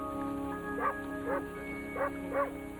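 A dog gives four short barks and yips, evenly spaced and moderately close, over a steady background hum with no speech.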